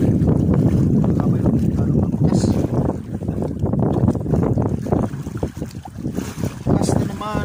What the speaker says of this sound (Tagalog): Bukas na naman ang hangin, amihan.